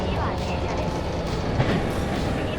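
Another train rumbles past in a train-driving video game set in a blizzard, a dense, continuous heavy rolling roar that stays loud and steady throughout.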